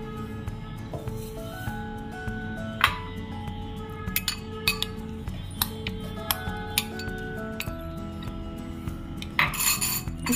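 A peeled guava hollowed into a cup shape is placed into a mixer jar, making several light clinks and taps of glass and metal over a steady tonal background.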